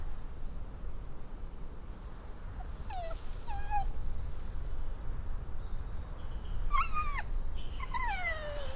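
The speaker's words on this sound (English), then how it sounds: "Oh shit, the dog." A dog in The Walking Dead: The Final Season whines and yelps in short high bursts, a few cries at first and then a louder cluster, over a low background of night insects and ambient hum.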